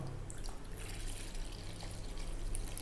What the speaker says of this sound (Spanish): Le vamos a poner 280 gramos de agua.